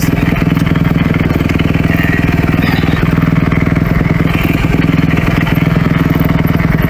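Kawasaki KX250F dirt bike engine on a ride, a loud, close, steady buzzing thrum with rapid pulsing firing and mild clatter, held at an even pace without anyone speaking.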